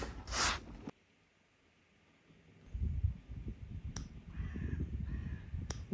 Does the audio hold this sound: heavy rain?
no